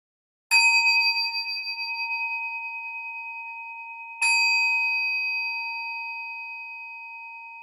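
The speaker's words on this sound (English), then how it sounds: "I'll ring a bell to get us started." A meditation bell rung to open sitting practice gives two clear, ringing strikes a few seconds apart, each tone sustaining and slowly fading in otherwise silent surroundings.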